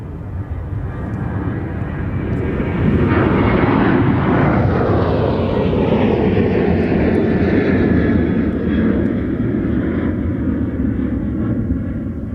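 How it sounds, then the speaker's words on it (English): A Sun Country passenger jet takes off, a loud, continuous roaring engine rumble that swells and holds steady throughout. "let's watch and listen to this Sun Country flight get into the air"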